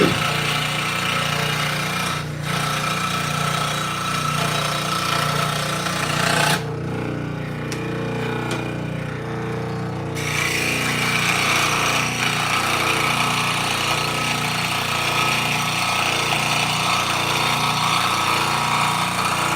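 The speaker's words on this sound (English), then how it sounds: "Scroll saw here. I'm just going to cut along the edge." A scroll saw cuts along the edge of an old puppet, giving a continuous, rapid buzzing chatter that stays loud and close. The tone shifts briefly partway through, and no voices are heard.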